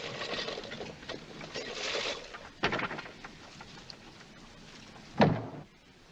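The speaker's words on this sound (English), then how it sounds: "Shut the door." An interior door is shut in an old 1946 film scene. Faint room noise is broken by a couple of muffled thuds, the sharpest one near the end.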